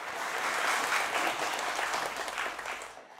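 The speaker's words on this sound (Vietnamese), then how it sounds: "hãy dành một tràng pháo tay thật dài thật lớn để cổ vũ tinh thần cho cả 4 bạn thí sinh của chúng ta." Studio audience at a televised quiz game show claps for four contestants, a dense, even round of applause that holds for about three seconds before cutting off abruptly.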